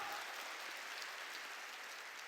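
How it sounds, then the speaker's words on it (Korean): Church congregation clapping during a Wednesday worship service, a steady dense wash of applause filling the space throughout, moderately loud and continuous with no voices standing out. "깨달은 사람만 박수치라고"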